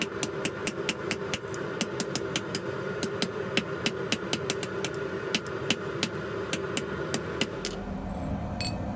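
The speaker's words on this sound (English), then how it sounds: "it's just not the same striking force when compared to direct hammer blows." Rapid, evenly spaced metallic hammer strikes ring out sharply on hot steel being forged and drawn out by hand over a steady mechanical hum, then stop near the end, leaving only the drone.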